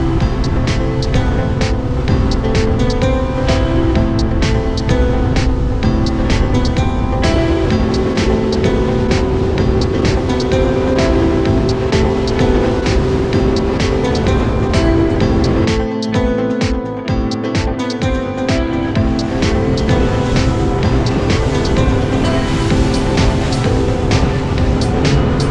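A speedboat runs hard through choppy water off Key Biscayne toward Elliot Key, its loud, steady engine roar mixed with hull slaps and rushing wind for the whole stretch, with no speech.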